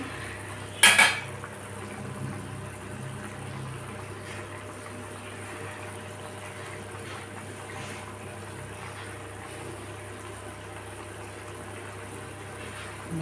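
A pot and utensils clank while mustard fish curry with parshe fish cooks, one sharp metallic clatter near the start, then a faint low kitchen hum with occasional soft scrapes and no talking.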